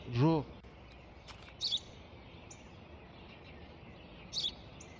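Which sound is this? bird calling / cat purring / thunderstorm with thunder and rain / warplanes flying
bird calling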